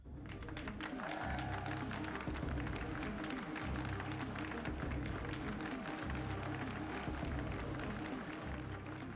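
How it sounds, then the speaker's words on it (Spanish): A large political rally crowd in 1920s Germany shouts, applauds and cheers continuously, a dense steady roar of clapping and voices filling the hall throughout. "el público grita, aplaude y vitorea"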